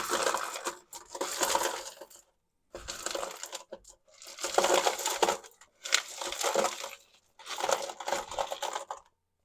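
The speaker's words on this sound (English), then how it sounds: "So let's get the ice on first." Ice being piled onto a dyed shirt in a trough for ice dyeing, heard as repeated crunchy clattering bursts of cubes tumbling and settling, separated by brief silent pauses.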